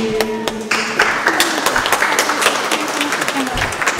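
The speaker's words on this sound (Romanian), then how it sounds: "Te aplaudăm!" Applause from pilgrims gathered around an archimandrite's address, brisk clapping under a murmur of crowd voices and some brief tonal sounds.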